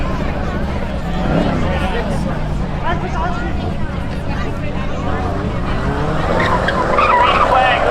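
Race cars launch at Seekonk Speedway's spectator drags: loud engines and squealing tires sweep past close by, under an announcer's voice.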